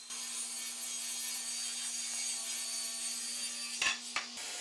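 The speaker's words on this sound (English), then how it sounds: "Over at the table saw, I cut a piece of 1-inch thick ash to 5 inches wide for the face of the vise." A table saw rips through a 1-inch-thick board of ash hardwood, a steady high whine under a low motor hum, ending with a few knocks and clunks as the cut finishes and the blade winds down.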